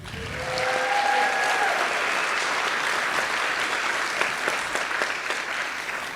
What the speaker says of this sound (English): let's get one more round of applause for David Faulkner, the star of that video.